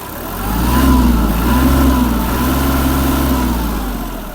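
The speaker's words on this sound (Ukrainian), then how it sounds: "Дуже гарно двигун відгукується на педаль газу." The small diesel engine of a Japanese Kubota GL-200 mini tractor revs up and holds high, a steady throbbing drone close by, then eases slightly toward the end.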